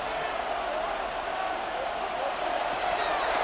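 Stadium crowd roaring in Madden 26 during a Rams versus Panthers playoff game, a steady loud cheering wash under a commentator's voice.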